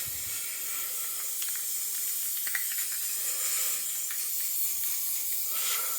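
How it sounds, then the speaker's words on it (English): An aerosol spray paint can primes orc miniatures in a continuous soft hiss, close and steady for several seconds, with a few light clicks and shifts of the can. "I'm gonna spray some to make sure it's gentle."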